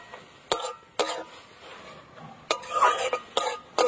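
Khesari (grass pea) greens being stirred in a pan with eggplant and garlic: sharp scraping clacks of a utensil at irregular intervals, with soft rustling and faint sizzling in between.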